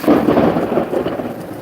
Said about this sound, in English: That one was thunder.